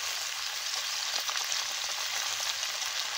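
Taro stolons fry in hot oil with garlic and green chili, giving a loud, continuous, even sizzle with no talking.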